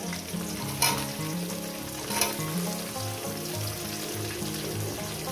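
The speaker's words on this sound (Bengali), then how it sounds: "পেঁয়াজগুলো দিয়ে ভেজে নেবো একটু" Onions fry in ghee with cumin for a chicken curry, a constant close sizzle broken by a couple of sharp pops, with no voices.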